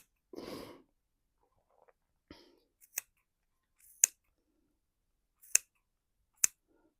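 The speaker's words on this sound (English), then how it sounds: "And now I'm going to snip the pieces like that." Scissors snipping through folded yarn for pom poms: a soft rustle of handling, then four sharp, separate metallic snips spaced about a second apart, close and clear in a quiet room.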